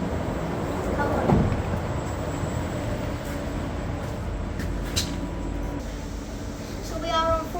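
Isle of Wight passenger train, unit 484-003, heard as a steady low rumble and hum throughout with a brief louder swell early on, while people talk over it.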